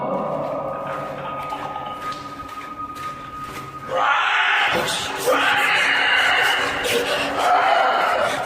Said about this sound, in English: the creature quiets for a time but lets out a final terrifying screech